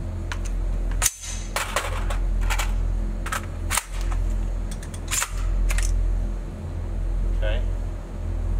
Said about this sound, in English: I'm going to run them manually, so I'm able to fully cycle the bolt all the way back